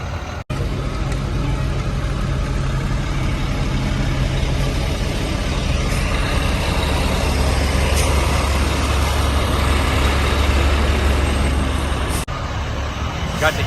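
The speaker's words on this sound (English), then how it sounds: "We got the big Dynamics truck here, ready to go." A big truck engine idles with a steady low rumble, loud and close, at a Christmas parade lineup beside floats and costumed characters; the drone holds unbroken for the whole stretch.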